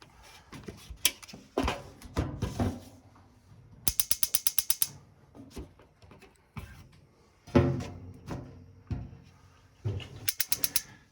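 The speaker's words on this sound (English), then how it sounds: "I'm holding the knob and I'm pushing the igniter, and now you can see there's a blue flame." A gas oven igniter is pushed repeatedly while the knob is held to light the pilot, giving close, rapid clicking bursts separated by quieter gaps, with no talk over them.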